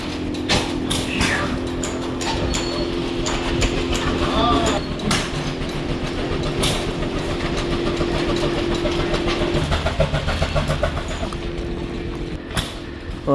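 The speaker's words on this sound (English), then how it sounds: "that's a hit and miss engine running that, I believe" Hit-and-miss engine running at a farm equipment show, a steady mechanical chugging with clattering and a low hum, busy and continuous, with other machinery noise around it.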